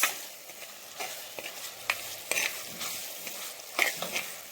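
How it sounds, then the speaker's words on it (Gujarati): Close, crackling sizzle of spices tempering in hot oil for boiled mung beans, with scattered pops and spoon scrapes over a low steady hiss. "તો સરસ તેલમાં સંતળાઈ ગયું"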